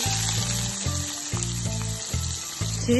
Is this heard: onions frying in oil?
yes